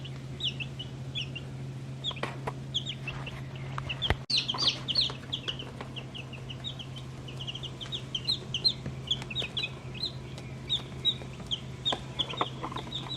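Chickens cluck and chatter steadily in a farm coop, a busy chorus of short calls near and far over a low constant hum, with no talk.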